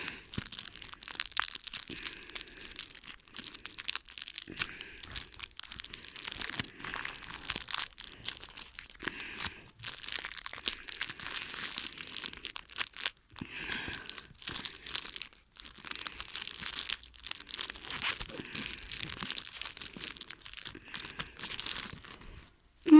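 A football trading card pack wrapper is torn open and handled, with near, continuous crinkling, crackling and tearing of thin foil-like plastic. The sound comes in uneven bursts and short pauses throughout.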